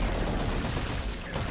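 Heavy, continuous gunfire from the Call of Duty: Infinite Warfare campaign fills a short burst, dense and loud like a sustained firefight.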